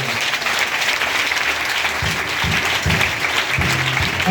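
A church congregation at a parish evangelisation campaign applauds loudly and continuously, dense clapping filling the space with a few heavier rhythmic claps near the end.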